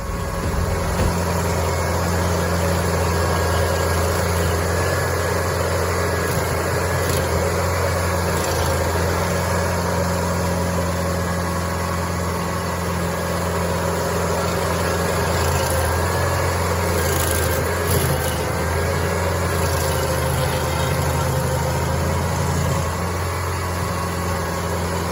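Stump grinder shredding an oak stump, its engine running loud and steady with a constant low drone and grinding hum that holds evenly throughout, no talk.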